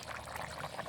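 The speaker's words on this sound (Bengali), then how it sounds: "মাংসটা ঝোল দিলাম" Broth poured into a simmering country chicken curry: a short, soft liquid pour and bubbling, faint and close, with no speech.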